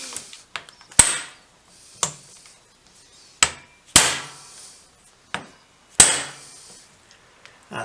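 Sharp metal hammer blows strike a screwdriver bit to free stuck screws on a BSA M20 / Enfield 350 trials bike, about seven spaced, ringing impacts close by with quieter taps between.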